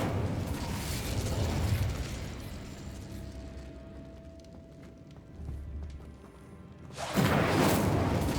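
An Incendio fire spell cast in a wizarding video game gives a whooshing burst of flame at the start, a quieter stretch with a thin hum, then another loud rushing blast near the end.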